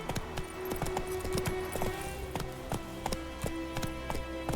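Roach the horse galloping in The Witcher 3, steady quick clip-clop hoofbeats with a driving rhythm, close and clear over a soft musical background.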